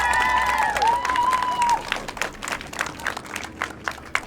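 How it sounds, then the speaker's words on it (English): Children and adults applauding during an election rally stop at an elementary school, a crowd of claps and light cheering, with a brief whistle-like tone near the start before the clapping continues. "Give them a big round of applause."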